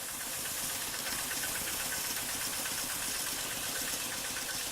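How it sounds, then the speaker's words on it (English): Thai style tractor engine running steadily during a rice harvest, a close, continuous chugging, knocking mechanical drone with a hissy edge, unbroken throughout and free of speech. "they're using those Thai style tractors to take"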